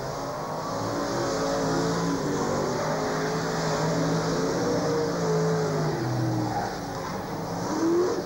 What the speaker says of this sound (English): There's nothing like the sound of a thundering V8.